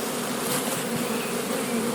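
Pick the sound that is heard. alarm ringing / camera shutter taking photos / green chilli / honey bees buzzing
honey bees buzzing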